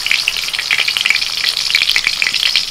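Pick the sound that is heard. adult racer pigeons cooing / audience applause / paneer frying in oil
paneer frying in oil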